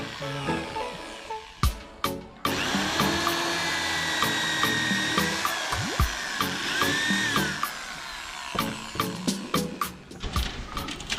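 Holes being drilled into pieces of arecanut palm wood, a whining drill with sustained high tones, broken by repeated sharp clicks and knocks as the bit stops and the pieces are handled, close and loud, no voices.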